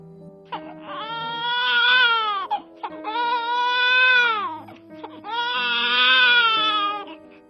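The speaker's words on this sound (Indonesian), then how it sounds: "Suara tangisan bayi yang lahir" A newborn baby cries loudly in a hospital. Three long wailing bursts are separated by short gasping pauses, with faint background tones underneath.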